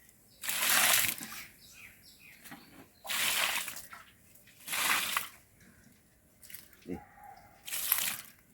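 Liquid is poured at the base of a plant on a farm in several separate splashing gushes, each lasting about half a second to a second with quiet gaps between, heard close by and with no talking.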